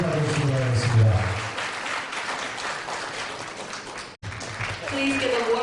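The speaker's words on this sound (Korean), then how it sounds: "교수님께 뜨거운 박수를 받으시기 바라겠습니다" An audience at a Korean community evening in New York applauds a professor. A dense patter of clapping fills the room, and a voice talks over it at the start.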